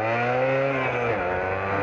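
A Suzuki Shogun two-stroke motorcycle engine revs in first gear, a loud, close, buzzing whine that holds high and then sags as the throttle eases.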